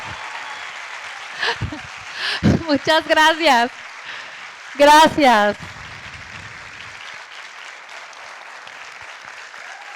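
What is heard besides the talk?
audience applause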